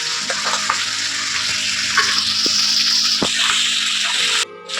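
Onions and tomato stirred in a frying pan for a paneer sabji: a steady loud sizzle of frying with scraping spoon strokes and occasional clicks, close up, ending with a brief drop in the hiss.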